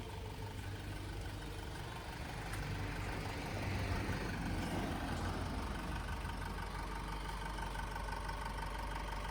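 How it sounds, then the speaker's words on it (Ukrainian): A 2015 Honda CR-V 2.2 diesel engine with automatic gearbox idles steadily with a low, even rumble, growing slightly louder midway as if approached, no talking. "Зараз підійдемо ближче до самого мотора і послухайте, як він гарно працює."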